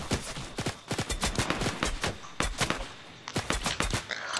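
Rapid bursts of gunfire from the Fortnite Battle Royale video game, sharp repeated shots in quick clusters with brief pauses, loud and close.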